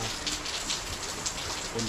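Heavy rain pours steadily in Mindanao, Philippines, a dense, even hiss of drops with faint low rumbles underneath.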